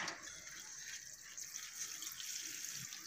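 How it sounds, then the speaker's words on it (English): Water trickles and splashes steadily as a mint plant is watered, a soft continuous pour running throughout without pause. "This mint plant and we water it."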